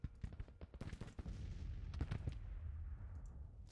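Scattered musket volleys from Civil War troops in a video game, a quick run of sharp pops and cracks early on that settles into a dense, rolling rumble of distant fire.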